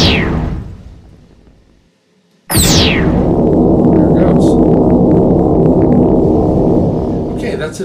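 Medium meteor blowing up in a Game Maker UFO video game, with a descending electronic sweep and then a sudden loud burst into a sustained roaring noise that slowly fades.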